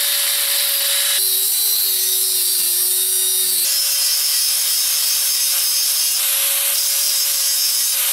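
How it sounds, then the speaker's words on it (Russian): A metal tube being sawn off during a small garage build of a muffle furnace for casting: close, steady scraping strokes with a sustained high hiss and a faint tonal ring, alone with no talk. "А теперь нам эту трубчонку надо будет обрезать еще."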